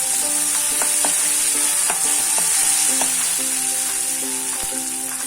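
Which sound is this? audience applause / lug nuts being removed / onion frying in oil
onion frying in oil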